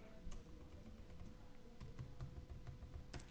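Quick, light keystrokes on a computer keyboard during accounting software data entry, a steady patter of soft clicks with a few sharper taps, close by and without speech.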